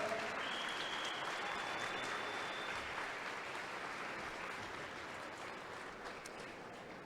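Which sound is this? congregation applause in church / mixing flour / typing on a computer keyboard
congregation applause in church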